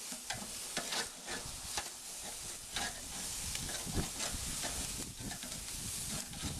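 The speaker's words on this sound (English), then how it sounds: "So now I'm starting to flip them." Chicken pieces sizzling and frying on a barbecue grill as they are turned, a steady close hiss of fat with scattered pops and faint scraping, no talking.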